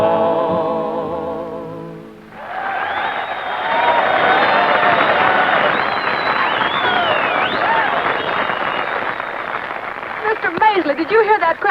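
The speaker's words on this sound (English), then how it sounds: "did you hear that crowd cheering?" A large rodeo crowd roars and cheers loudly and steadily at a Western show, rising after a brief musical lead-in and holding as a dense wash of voices, with scattered whoops and claps near the end.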